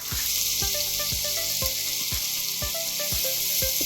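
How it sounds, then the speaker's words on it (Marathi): Steady, loud sizzling of onions frying in hot oil, with repeated soft thuds and clinks of a utensil stirring the pan. "या फोडणीमध्ये हे कांदे छान परतून घेऊया"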